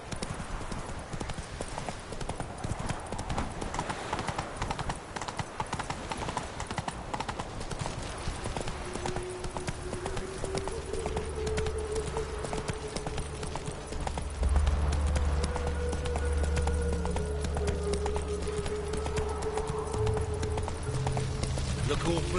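Horse hooves in the video game The Witcher: Wild Hunt, a quick rhythmic clip-clop of galloping that runs throughout at a steady pace under a low rumble, with a voice talking briefly.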